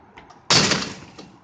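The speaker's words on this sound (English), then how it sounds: "Close the door." A house door shuts with a single sharp, loud slam that decays over about a second, following some faint sounds in a quiet room.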